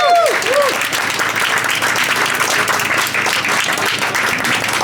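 Sustained audience applause for the band after a live music set at a Seattle developer meetup, a full steady roar of clapping with a few brief tones at the start.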